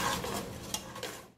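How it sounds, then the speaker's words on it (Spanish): Chorizo frying in a pan, a brief soft sizzle with light scraping and clinks of a utensil against the pan, fading out at the end. "Tiene que ser rápido, que se fríe rápido el chorizo"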